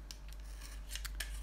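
A pencil lead being sharpened with a blade into a smooth bevel, giving quick scraping strokes in an irregular rhythm over a low hum, close and faint.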